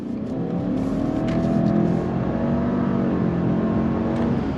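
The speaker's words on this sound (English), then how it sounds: "I want to go on throttle. You ready? On throttle, here we go." A 2025 Subaru Legacy XT sedan engine pulls hard under full throttle, its pitch climbing steadily as it accelerates, loud and close with no talking.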